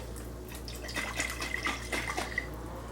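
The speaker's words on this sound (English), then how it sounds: "I'm going to add a little bit of water" Water poured into a pot of simmering spaghetti sauce, a soft splashing trickle of liquid over a steady low kitchen hum, with no talking.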